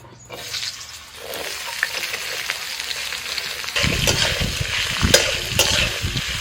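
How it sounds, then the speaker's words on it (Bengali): Potatoes and onions drop into hot oil in a wok and fry, first a soft hiss, then a louder, denser sizzle with stirring and scraping. The sound is close and steady, with no voices over it. "কড়াতে যে তেল আছে ওই তেলের মধ্যে আমি দিয়ে দিচ্ছি আলু আর পেঁয়াজ"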